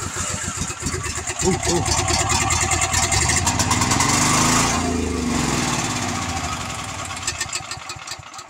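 A small portable generator engine turns over and catches, then runs with a loud, steady rough chug close by, with brief exclamations from a person in between.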